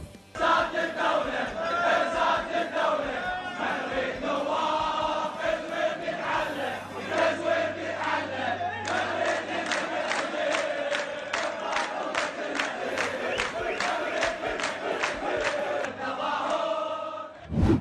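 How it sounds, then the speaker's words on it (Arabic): A large crowd of protesters in Najaf chants in loud, rhythmic unison, with sharp regular beats punctuating the massed voices throughout. "تعالوا نتابع شيئا من هتاف المتظاهرين في محافظة النجف"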